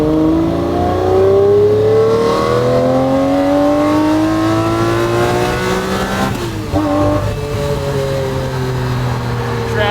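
A Lamborghini Murcielago roadster with a gated manual gearbox revs hard on a freeway, its loud engine climbing through gears in rising sweeps with a brief shift dip, the roar close and dominant throughout.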